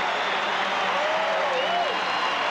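A packed basketball arena crowd roars during a 1978 Lakers at Golden State Warriors game, a loud, continuous wash of cheering with a whistle rising and falling through the noise.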